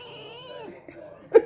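A pet cat meows up close, first with a drawn-out, wavering call and then a couple of short, sharper chirping meows at the end.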